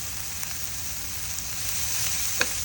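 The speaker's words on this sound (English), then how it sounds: "Now on a low flame, allow the tomato to melt" Tomato and coriander cook gently on a low flame for Parsi-style akuri, a soft, steady sizzle with a few faint ticks and one brief scrape of stirring near the end.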